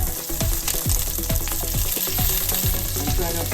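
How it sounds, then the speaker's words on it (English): Leek browning in vegetable oil in a frying pan over medium heat, a loud, close, continuous sizzle with crackling pops running throughout. "put some vegetable oil in it and brown the leek"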